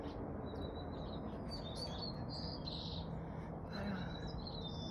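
Birds singing outside in the evening, with a run of bright, high chirps and short warbling calls, fairly faint and distant over a steady low ambient rumble.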